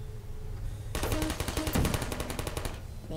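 Rapid bursts of automatic turret gunfire in the video game Portal, a loud, dense rattle of closely spaced shots lasting about two seconds, with a muffled hum before and after.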